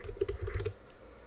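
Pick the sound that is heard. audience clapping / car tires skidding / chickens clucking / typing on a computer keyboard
typing on a computer keyboard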